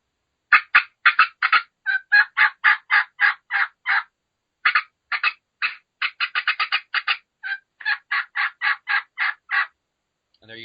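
A champion caller works a turkey call to mimic an aggravated hen, rapid cutting clucks running in quick bursts with excited yelps mixed in, loud and close, pausing briefly midway before resuming.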